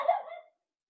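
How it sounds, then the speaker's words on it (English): A dog gives a single short bark indoors, fairly close and clear, with silence after it. "Anyway, sorry about the barking dog."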